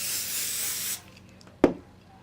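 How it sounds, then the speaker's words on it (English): A short, bright hiss of a spray can, about a second long, then quiet with a single soft thump afterward. "Little bit of spray here."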